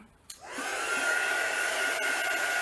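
A hair dryer clicks on and runs at a steady, loud, close whir with a constant tonal hum, drying a sheet of tea-dyed paper.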